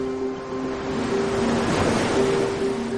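Ocean waves and surf washing in a steady broadband wash, fairly loud and continuous, with a low tonal hum running underneath and no talk.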